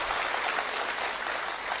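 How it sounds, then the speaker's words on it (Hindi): An audience claps steadily throughout a comic talk, a dense, even patter of many hands at moderate loudness with no voices over it. "तालियां आप लोग कमजोर बजा रहे हैं"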